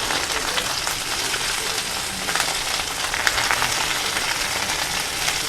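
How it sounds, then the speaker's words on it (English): Pork loin sears in a hot pan, giving a loud, dense, continuous sizzle and crackle of fat and juices, steady from start to finish with no voices. "So we want to get a nice hard sear on all four sides."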